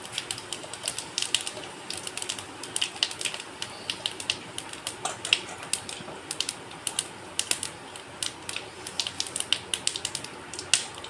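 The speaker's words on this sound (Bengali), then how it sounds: "একটা শুকনো লঙ্কা দিয়ে দিলাম ফোড়নে আর কিছুটা পাঁচ ফোড়ন" Dried red chilli and panch phoron crackle in hot oil for a fish curry, a dense run of sharp, irregular pops and spits heard up close, steady for several seconds with no talking.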